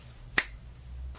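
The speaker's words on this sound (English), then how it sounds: "I'm going to snap my finger" A single sharp finger snap cracks out once, close and crisp, against a quiet low hum, with no talking around it.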